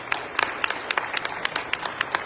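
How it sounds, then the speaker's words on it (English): An audience applauds panelists at a vacant property legislation panel discussion, steady close clapping from a modest crowd with distinct individual claps throughout. "applause."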